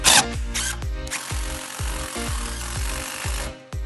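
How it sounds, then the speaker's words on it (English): A power drill drives a self-tapping screw into the thick aluminum rear cross member of a boat during a wood deck install, giving a steady close whirring drone with repeated rhythmic thumps as the screw bites and seats. "I'm gonna run my self-tapper."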